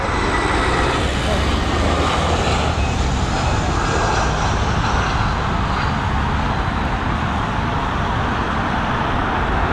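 An Airbus A320 jet airliner landing at Dublin Airport, a loud continuous broadband roar of engines and rushing air that fades slowly over several seconds.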